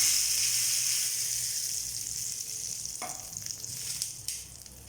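Curry leaves and tempering added to tomato chutney in a hot pan set off a loud, steady close-up sizzle that slowly fades, with small stir clicks toward the end.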